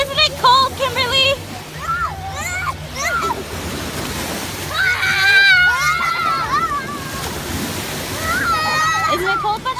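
People splash about in open water, with sloshing, surf-like wash and splatter heard close, while children and adults chatter and call out over it throughout.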